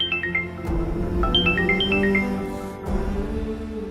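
A mobile phone rings with an incoming call, a melodic ringtone of short repeated tones sounding clearly over a soft musical background in an indoor drama scene.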